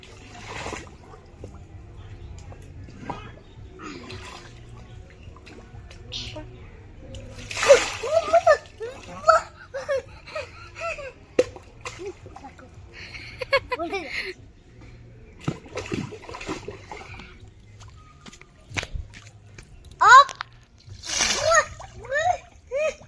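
Children splash and pour water outdoors while sitting in it, with repeated close sloshes and splatters in irregular bursts, some louder spurts near the middle and end, mixed with children's voices and an adult talking throughout.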